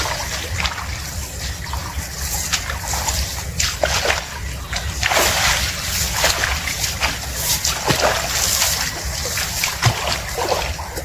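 Irrigation water splashes and sloshes across a farm field in winter. The wash of spray and trickling is loud and constant, with brief surges, and no speech can be heard over it.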